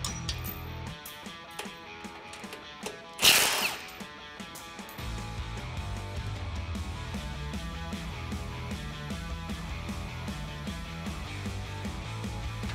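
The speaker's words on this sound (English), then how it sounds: "we're gonna remove these two 10 millimeter bolts with a 10 millimeter socket" A ratchet with a 10 mm socket backs out bolts holding a plastic trim piece and bracket on a 1997-2006 Jeep Wrangler TJ, giving a few sharp metallic bursts of clicking over steady background music.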